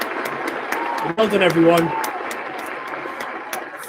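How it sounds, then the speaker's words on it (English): A school celebration assembly applauds its Stars of the Week, steady distant-sounding clapping from a group running the length of the moment, with an adult voice briefly speaking over it midway. "Give them all a huge round of applause."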